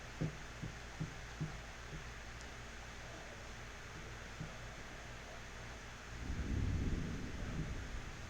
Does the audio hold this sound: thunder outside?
yes